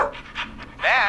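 Dog Max panting in the video game Killer Frequency, a brief burst of quick breaths near the end, with speech heard just before.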